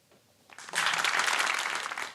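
A podcast audience breaks into applause for Ed, a burst of clapping that starts after a quiet half second and stays loud and dense to the end.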